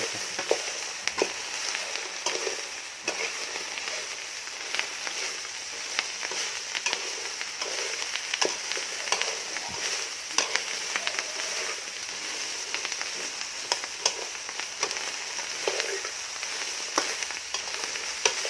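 June beetles and stink bugs frying until crispy, a dense continuous sizzle with crackling pops and occasional scraping stirs, close and steady throughout.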